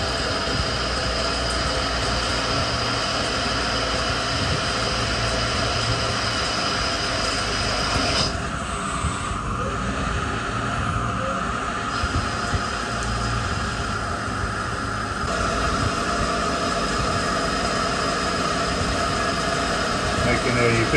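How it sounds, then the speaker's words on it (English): A new metal lathe runs steadily at faster speeds on a longer turning pass, giving a continuous hum and whine with a brief change in tone partway through, and someone talks over it. "Just testing out a little bit of longer turning here with some faster speeds."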